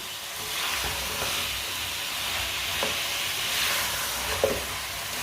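Turnip and potato pieces being stirred in a hot pan for shalgam curry, giving a steady, broad frying hiss with occasional soft scrapes of the spoon.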